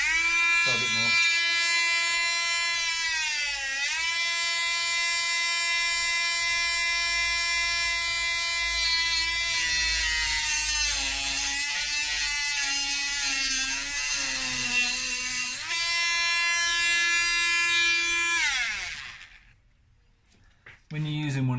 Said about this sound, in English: When you're using one of these tiny grinding discs, they've got a real bad habit of exploding, right?